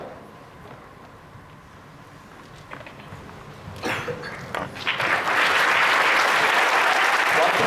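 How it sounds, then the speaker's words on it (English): A school audience at a student council investiture ceremony breaks into applause, starting with scattered claps and building within seconds into loud, dense, sustained clapping from a large crowd. "Can we have another huge round of applause?"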